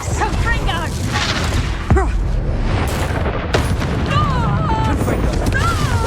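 In Hogwarts Legacy, a Confringo blasting spell detonates with a sharp, loud boom amid dense battle noise, rumbling low layers and shouting voices.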